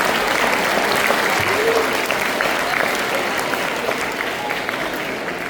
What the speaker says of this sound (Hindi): आइए जोरदार तालियों के साथ सभी प्रतिभागियों का उत्साह प्रकट करें